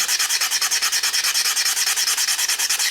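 A carbon steel Opinel knife blade is scrubbed of rust with fast, even back-and-forth rubbing strokes, roughly eight per second, loud, close and uninterrupted, with no talking.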